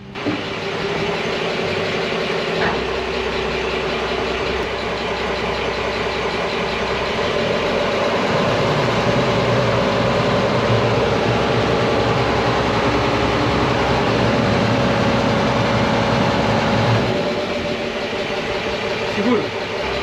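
A boat engine running in reverse drones loudly and continuously for the whole stretch, a mid-pitched throbbing hum with slight shifts in tone.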